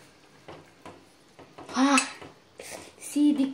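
Okra pulusu stirred in a pot, a few distinct metallic clanks and scrapes of a spoon against the pot, close and separated by short pauses.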